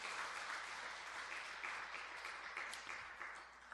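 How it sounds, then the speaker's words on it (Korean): Applause from a congregation during a Friday late-night church service, a soft, even wash of many hands clapping, heard faint and somewhat distant with no speech over it. "박수 좀 부탁합니다."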